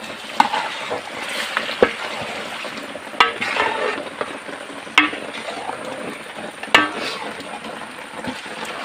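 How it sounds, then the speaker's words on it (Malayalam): Chicken being stirred and roasted in a pan for a large batch of curry: a steady close sizzle with scraping spoon strokes and occasional sharp clacks against the pan, continuous throughout. "ചിക്കൻ നന്നായിട്ട് ഇതിനകത്തൊന്നിട്ട് ഇളക്കിയെടുക്കാം ചിക്കൻ നല്ല റോസ്റ്റ് എത്തിയിട്ടുണ്ട്"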